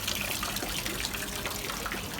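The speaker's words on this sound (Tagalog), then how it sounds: "Water." Water runs and gushes steadily in a continuous close, loud rush with no break and no voices.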